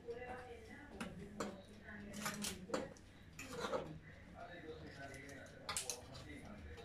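Oven-baked chicken pieces being turned over in a pan, with scattered clinks and scrapes of a utensil against the cookware, fairly close and moderately loud, under faint background noise.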